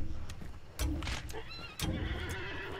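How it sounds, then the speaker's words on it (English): A horse whinnies loudly and close by in the video game Hunt: Showdown, with heavy hoof thuds and a rough, noisy background around it. "I shot our horse."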